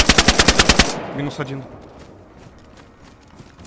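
Gunfire in DayZ Standalone, patch 1.04: a loud, rapid automatic burst of about eight evenly spaced shots. It stops abruptly, leaving quieter ambience, and someone speaks briefly afterward.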